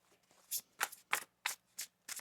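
A tarot deck is shuffled by hand in six quick, crisp riffling bursts spaced about a third of a second apart, close and fairly quiet, with no talking.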